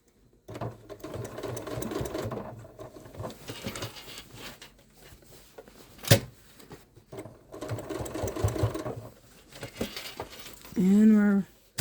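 A Janome Inspire sewing machine top stitches a crossbody bag in several runs of rapid, steady stitching separated by short pauses, ending with a brief high whine close by.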